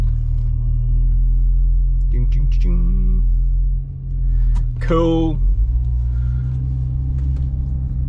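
A BMW with a dual-clutch transmission swap and a single mass flywheel creeps off from a standstill, its engine a deep, steady low rumble with slight surges. A voice speaks briefly over it.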